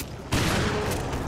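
A frag grenade blast in Resident Evil: Revelations, one sudden loud burst that holds as a dense roar for about a second with no voices over it.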